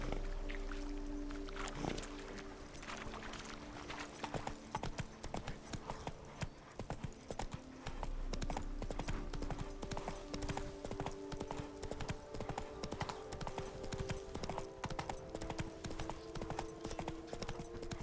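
Roach the horse in The Witcher 3 clip-clops at a steady walk, a dense even run of close hoof strikes over a low game background, with no talk.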